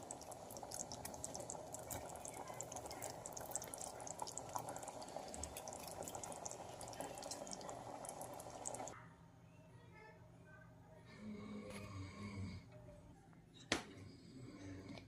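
Thick kidney bean curry (rajma) bubbles and simmers steadily with soft popping, later quieter with occasional small clinks of a utensil.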